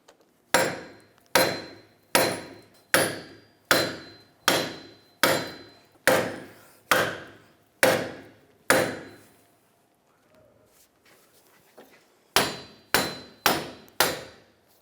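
Heavy metal-on-metal hammer blows on the wheel hub and suspension of a 2004-2009 Toyota Prius during a wheel bearing replacement, in a steady rhythm, each ringing briefly, with a short pause before a final quick series of strikes.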